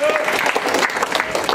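Audience applause at a physics science show: a dense, continuous patter of many hands clapping, fairly close and loud, with voices mixed in throughout.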